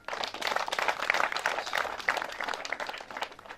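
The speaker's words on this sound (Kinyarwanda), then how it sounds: "nibamfashe tuguha amashyi" At a wedding in Rwanda, the crowd gives the groom's speaker a burst of lively applause, dense clapping rising quickly and continuing steadily before tapering slightly at the end.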